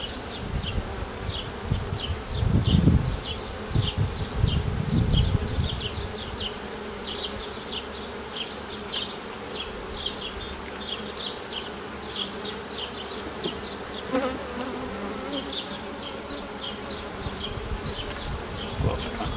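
Honey bees buzzing around an open hive during an inspection, a constant close droning hum with individual bees whizzing past and some low handling thumps early on.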